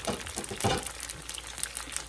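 Brisket popper egg rolls deep frying in hot grease over medium-low heat, a steady dense sizzle and crackle with small pops, close and continuous.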